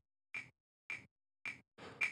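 Four evenly spaced metronome clicks, crisp and close, with the last one louder and doubled like an accent.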